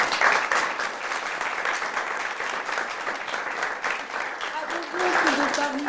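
Studio audience applause on a youth talk programme, steady dense clapping throughout with a faint voice rising briefly near the end.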